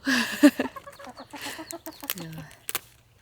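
Chickens at a campsite on Ganghwa Island cluck nearby in a string of short, irregular bursts, with one louder squawk near the start and quieter clucks trailing off.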